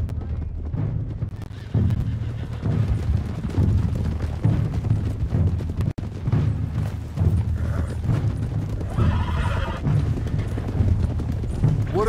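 A group of riders sets off on horseback in Red Dead Redemption 2, hooves clip-clopping steadily for several seconds amid rumbling game ambience, with brief voices mixed in.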